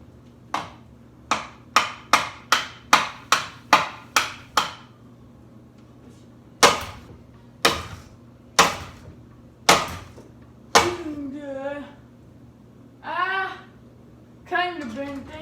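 A hammer strikes the metal blades of a ceiling fan being broken apart, giving a fast run of about ten sharp clanging hits, then slower single blows with ringing resonance, loud and close, with no talking.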